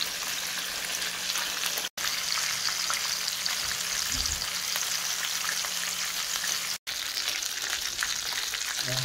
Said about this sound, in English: Still frying our fish.